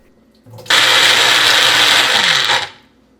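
An electric mixer grinder whirs loudly for about two seconds as it churns peanuts, ginger, besan and water into a paste, starting abruptly and then winding down.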